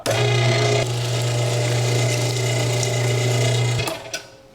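An electric meat grinder runs steadily, grinding sausage meat and fat with a constant motor hum and faint mechanical whirring for about four seconds, then shuts off and winds down.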